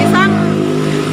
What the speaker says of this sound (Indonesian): maaf ya banyak motor